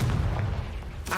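Confringo fire-blast spell cast in the video game Hogwarts Legacy, a rumbling, booming blast with a heavy low-end roll that carries on for the whole moment and flares up again near the end, with no voices.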